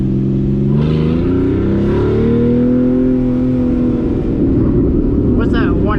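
A 2014 Porsche Cayman S engine revs loudly, its pitch sweeping up and settling into a sustained drone before dropping off into crackling exhaust burbles near the end, heard up close from the cabin.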